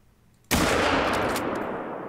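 A loud, close rifle shot in the hunting video game theHunter: Call of the Wild, a sudden sharp blast with a long rolling echo that fades slowly.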